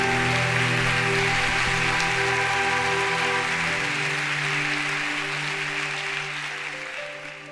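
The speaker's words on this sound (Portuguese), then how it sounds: "E quem crê, dê um aplauso ao Senhor." A church congregation bursts into sustained applause, a dense, steady wash of many hands that fills the room and slowly thins toward the end, with a held organ or keyboard chord beneath.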